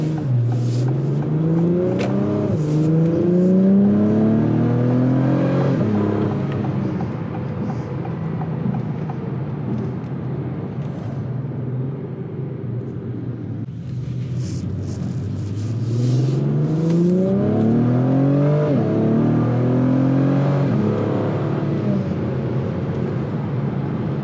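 2024 Acura TLX Type S engine revving in sport mode, a loud exhaust note that climbs through rapid gear shifts in two separate bursts, with quieter cruising between them and no speech.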